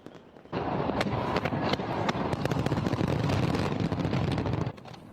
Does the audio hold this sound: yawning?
no